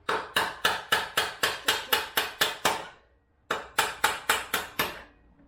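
Sharp metallic hammer blows on a Honda CB500 motorcycle's rear suspension, struck through another hammer, in a steady rapid series, about ten strikes, a brief pause, then five or six more, close and loud.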